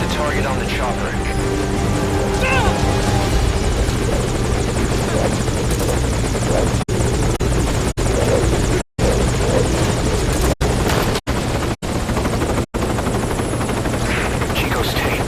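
A helicopter in Metal Gear Solid V: Ground Zeroes waits at the landing zone, its loud, steady rotor thrum and engine whine running throughout under speech, with several brief dropouts near the end.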